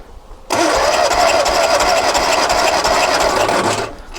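A Lotus Twin Cam engine turning over on the starter during a compression test, a loud steady churning drone that starts abruptly and runs unbroken for about three seconds before cutting off, with no talk over it.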